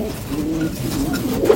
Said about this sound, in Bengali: আমার ঘরে সাদা পায়রা।